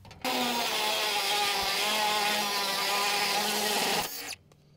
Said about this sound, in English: the DeWalt cutoff tool.